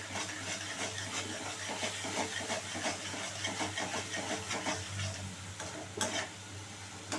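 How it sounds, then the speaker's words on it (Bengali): Ginger and green chilli paste frying in oil for a paneer dish, with a steady sizzle and hiss and faint scraping of a spatula stirring the pan throughout, close and continuous without talk. "এই আদা আর কাঁচা লঙ্কাটা খুব ভালো করে ভেজে নিতে হবে যাতে স্মেলটা চলে যায়।"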